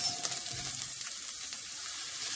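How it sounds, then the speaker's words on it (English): Onions sizzle in a little vegetable oil in a pan, a continuous, even hiss at moderate volume with no talking. "In another dry pan on heat, I add in a little vegetable oil. I add in onions"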